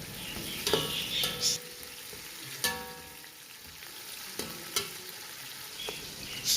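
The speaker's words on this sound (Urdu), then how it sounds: "اور انہیں بھونیں گے تھوڑی دیر۔" Onions, tomatoes and garlic water frying in a pot for chana pulao, a steady sizzle broken by several scraping stirs of a spoon, close and moderately quiet with no talk.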